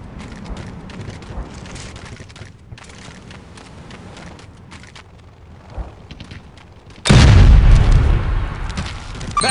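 Satchel charges blow up on mortar base plates in a war video game, a sudden loud, sustained deep blast with rumbling debris that cuts in after a stretch of low ambient battlefield noise.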